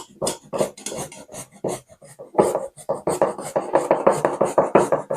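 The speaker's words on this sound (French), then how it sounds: "est-ce qu'on ne peut pas être des espèces de rebelles et râper ça directement sans enlever la peau?" An unpeeled root is rubbed against a grater in quick, raspy scraping strokes. The strokes come in short bursts at first, then turn into a dense, steady run of grating that ends close and fairly loud.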